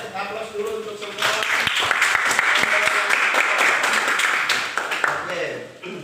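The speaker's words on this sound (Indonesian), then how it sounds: "Ayo aplaus dulu untuk semua." A classroom group applauds together, a dense burst of clapping that swells and holds for several seconds before tapering off, with voices talking over it.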